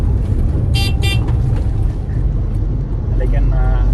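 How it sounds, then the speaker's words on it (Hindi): Two short, high horn toots from a Changan M9 Sherpa 1200cc pickup truck, heard close over a loud, steady engine rumble, with voices present. "हॉर्न है इसका वो थोड़ा सा छोटा है गाड़ी के हिसाब से"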